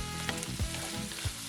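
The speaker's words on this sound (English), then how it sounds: "When you're frying shrimp, just make sure you cook it not more than 30 seconds." Shrimp sizzles and fries in a hot pan for egg fried rice, a steady close crackle with a few brief stirring scrapes and no voices.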